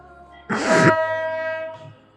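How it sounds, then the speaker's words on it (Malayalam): A Darjeeling toy train running through town lets out a single loud, shrill whistle lasting about half a second, with a fainter tonal hum hanging on after it. "അതിങ്ങനെ ചൂളം വിളിച്ച് മന്ദം ഈ ഡാർജിലിംഗ് ടൗണിനകത്തൂടെ ഇങ്ങനെ ഓടിക്കൊണ്ടിരിക്കും"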